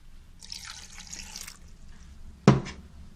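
A small pour of water into a blender jar of salsa ingredients, a brief splash burst close by after a quiet spell of faint rustling.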